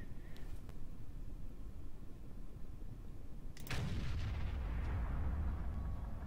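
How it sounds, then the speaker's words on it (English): A 128mm main tank cannon in Kerbal Space Program fires once against the Vehicle Assembly Building, a sudden sharp blast followed by a rumbling boom that stays loud and fades slowly, coming after a quieter stretch of low background noise. "128mm cannon, here we go,"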